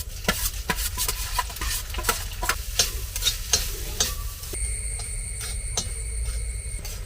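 Grated coconut roasting in a pan with chili powder, coriander powder, turmeric and fennel seeds, stirred with a utensil in rapid regular scrapes over a dry sizzle, close and unbroken, no voices.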